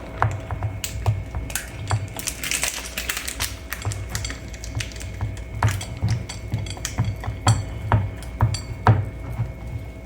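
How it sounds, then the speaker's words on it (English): Food is grated by hand over a bowl on a Dollar Tree grater, producing quick, repeated scraping and tapping strokes in an uneven rhythm, close and moderately loud, with no talking. "See if I can grate it over the bowl."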